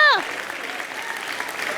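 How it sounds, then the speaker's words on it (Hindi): Applause from a live comedy show studio audience, a steady wash of many hands clapping at moderate loudness that follows a brief cut-off vocal sound at the start. "मम्मी के लिए तालियां।"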